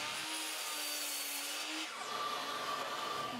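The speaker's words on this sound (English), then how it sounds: "I folded up the wings on my miter station to get the support that I needed while I cut them to length" A miter saw on a miter station cuts long wood frame pieces to length for an outdoor lounge chair: a brief close rasping cut with a thin whine, then the blade spinning down, no talk.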